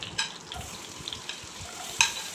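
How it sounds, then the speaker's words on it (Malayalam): Chopped garlic, ginger, green chilli and onion sautéing in a pan for a Kozhikode-style prawn coconut curry, with a steady soft sizzle, intermittent stirring scrapes and a sharp utensil clink near the end. "ചോപ്പ് ചെയ്ത ഗാർലിക്ക്, ചോപ്പ്ഡ് ജിഞ്ചർ, പിന്നെ ഗ്രീൻ ചില്ലി, പിന്നെ ഒരു സവാള ചെറുതായിട്ടൊന്ന് കട്ട് ചെയ്തെടുത്തത്, ഇത്ര ഇട്ട് നമുക്ക് ഒന്ന് വാട്ടിയെടുക്കാവേ."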